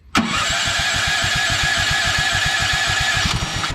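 Electric start of a Woodland Mills HM130Max sawmill engine with the choke on: a short starter crank catches almost at once into a steady, loud, close-up idle with an even pulsing rhythm that continues throughout.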